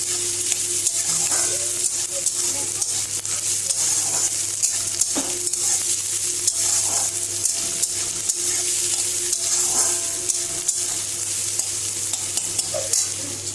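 Vegetables sizzle and crackle steadily in a hot pan, with occasional scraping stirs, loud and close, no talking.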